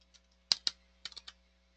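A handful of crisp keyboard keystrokes click close by, two sharp taps followed by a quick cluster of three, over a faint steady hum while text is typed into a search field.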